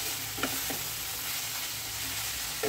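Slit green chillies sizzle among frying radish, giving a dense continuous hiss with a few soft stirring knocks from a spoon against the pan.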